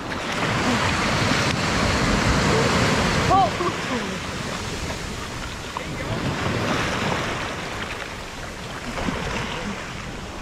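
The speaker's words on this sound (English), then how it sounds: "Just the waves." Ocean surf breaks on the shore during land-based shark fishing, a continuous loud wash with swelling surges and wind buffeting the microphone, while people call out briefly over it.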